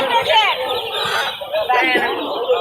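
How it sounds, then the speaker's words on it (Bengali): Ducks and ducklings quack and peep in a noisy cluster nearby, loud and continuous, with chatter mixed in at a cattle market in Gazipur. "হাঁসের বাচ্চা যে ছোট বড় সব হাঁসের বাচ্চা আছে"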